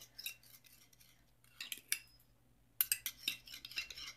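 A metal spoon clinks and scrapes against a bowl while a homemade hair mask is stirred, in quiet, irregular bursts of bright taps separated by short pauses.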